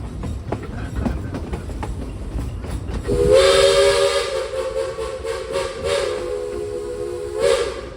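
Frisco Silver Dollar Line steam train #504 chugs and hisses nearby, then sounds its steam whistle in a long, loud sustained blast with a harmonic chord, over continued hissing and rail clatter.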